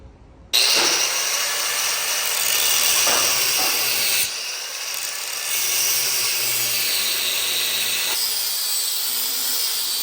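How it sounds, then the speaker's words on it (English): A cutoff wheel grinds through an induction-hardened steel boring bar with a loud, continuous abrasive hiss and whine that dips briefly partway through, then resumes; no one speaks. "We use a cutoff wheel because it's induction hardened"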